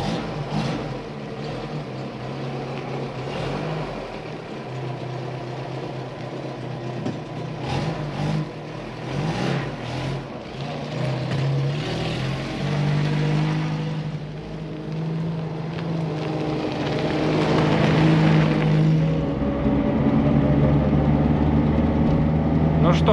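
A restored 1964 Moskvich-403IE runs with a steady engine drone that swells as the car pulls away, with wind noise and rattles mixed in and someone talking over it.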